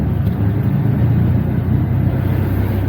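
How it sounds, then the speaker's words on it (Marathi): Steady low engine drone and road rumble inside an auto rickshaw riding away from a railway station, continuous and fairly loud with no speech over it. "आता स्टेशनला उतरून आता आम्ही रिक्षा केली आहे बघा."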